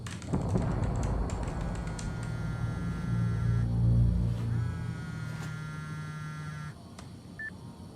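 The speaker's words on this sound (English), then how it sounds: "My office alarm went off" A sustained electronic office alarm in Quantum Break drones on with a steady low buzzing tone and brighter tonal layers, holding for most of the stretch before cutting off near the end amid faint background clatter.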